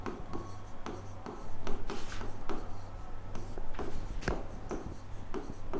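Pen scratching across paper as notes are written by hand, a close, quiet run of short strokes and rubbing with a faint steady hum underneath and no talk.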